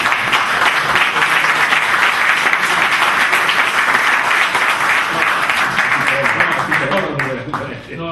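A lecture audience applauds at a talk about Catalan history and the New World: sustained, dense clapping that fills the room and fades slightly at the end.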